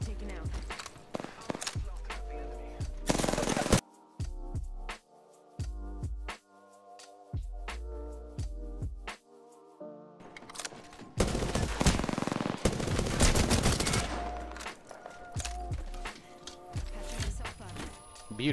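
Repeated bursts of automatic gunfire in a video game come loud and close, with rapid rattling volleys and single shots spread across the stretch, mixed with game effects and occasional talking.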